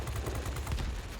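Rapid aircraft machine-gun fire rattles continuously in World of Warplanes, a dense burst of chattering reports from a fighter dogfighting a Focke-Wulf, steady and unbroken through the whole moment.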